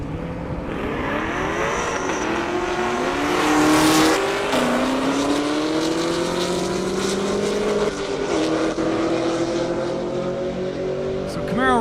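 Two Camaro race cars launch side by side down a half-mile airstrip drag strip, engines roaring and climbing through gear changes, loud and close, as an announcer keeps talking over the noise.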